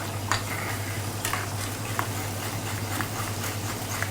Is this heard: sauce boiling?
yes